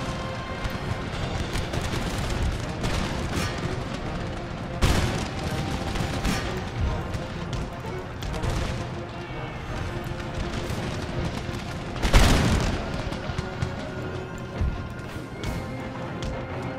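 Musket volleys crackle across an Empire: Total War battlefield, dense overlapping gunfire with sharp louder cracks standing out near the middle and toward the end over a constant battle din.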